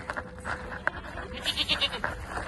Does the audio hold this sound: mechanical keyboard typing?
no